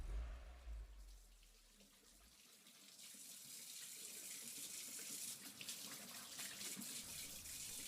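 A faucet runs steadily into a sink as hands are washed, the flowing water hiss starting softly and growing fuller after a few seconds, with no voices.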